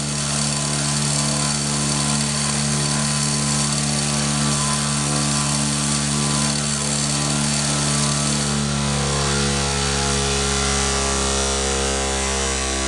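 A machine vibrates while it runs, producing a loud, unbroken droning hum with strong layered tones that holds steady throughout, with no voices.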